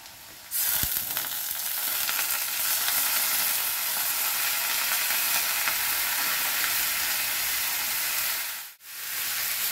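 Bottle gourd hits hot oil in a pan with sauteed onion and a hilsa fish head, bursting into a loud, even, hissing sizzle that continues for several seconds, with a brief dip near the end.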